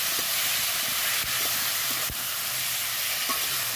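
Ginger and cumin paste fries in a pan for a vegetarian vegetable dish, a constant bright hissing sizzle close up with a couple of sharp clicks and no voices.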